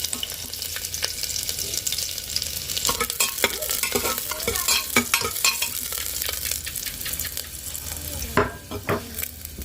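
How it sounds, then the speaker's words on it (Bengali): Sliced onions fry in hot oil with five-spice seeds (panch phoron) for khichuri, a soft continuous sizzle broken by repeated scraping stirs of a spoon against the pan. "পেঁয়াজটা ভাজা হয়ে গেছে"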